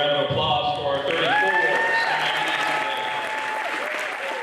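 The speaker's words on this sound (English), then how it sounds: "How about another round of applause for our 34" An audience applauds student athletes at a high school athletic signing ceremony, a steady crowd of clapping holding for the whole stretch with loud cheers and voices mixed in.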